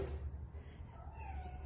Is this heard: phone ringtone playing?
no